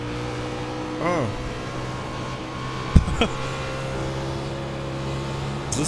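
NASCAR race car engine in the iRacing sim holding a steady droning tone, with one quick rising-and-falling pitch sweep and a few sharp knocks partway through.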